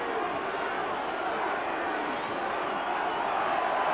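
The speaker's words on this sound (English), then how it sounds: "New Zealand crowd calling for a pushover" A New Zealand rugby crowd roars steadily at the 1988 All Blacks versus Wallabies Bledisloe Cup first test, calling for a pushover as a dense, continuous wash of distant voices with no breaks.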